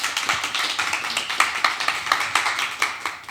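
Applause from a lecture audience at a Korean leaders' forum, a steady patter of many hand claps with sharp transient peaks, moderately loud and continuing throughout without speech.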